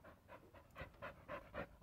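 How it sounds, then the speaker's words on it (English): A dog pants in quick, rhythmic breaths close by, about seven huffs in under two seconds, with no talk over it, in a garage workshop where a pit bike is being built. "Get out of here, dog."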